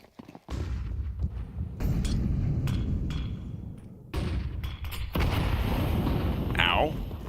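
A grenade goes off in a Counter-Strike match, a heavy boom followed by sustained rumbling game noise and further impacts, with a commentator's voice running over it.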